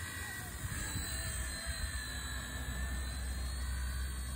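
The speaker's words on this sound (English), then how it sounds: "Good looking little helicopter. Like I said, it flies very well, but it is very fast" A small Eachine E119 RC helicopter flies outdoors in wind, giving a continuous high-pitched rotor whine and buzzing drone that stays steady and fairly close throughout.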